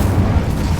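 A spell is cast in Hogwarts Legacy, giving a short, dense fiery boom with a heavy low rumble. It is loud and fills the whole brief moment.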